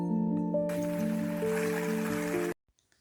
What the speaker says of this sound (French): Bon, là, il pleut.